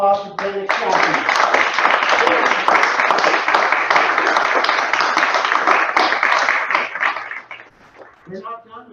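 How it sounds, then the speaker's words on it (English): Sustained audience applause after a performer's set at a storytelling show, a dense, loud burst of clapping that swells, holds steady for several seconds, then tapers away as a voice resumes. "How about another round of applause for David Chapman?"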